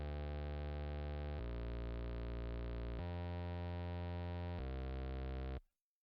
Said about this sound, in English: So this gives a gritty bass sound.